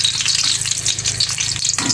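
Eggplant frying in a pan gives a steady, close crackling sizzle throughout, with a faint low hum beneath and a brief soft knock near the end.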